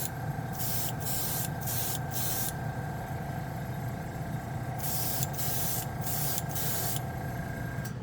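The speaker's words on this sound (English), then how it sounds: "it just sprays and lays down so evenly" An airbrush sprays Mr. Hobby Aqueous paint onto a Gundam model part, giving a close, steady hiss that cuts in and out in short and longer bursts over a constant compressor drone.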